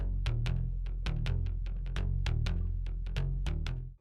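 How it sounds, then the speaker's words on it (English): Gritty, much noisier synth-style bass playing short staccato notes in a quick repeating pattern, up front and unaccompanied, fading at the very end. "I added another bass playing kind of the same thing, just with shorter notes, and it was a much noisier bass."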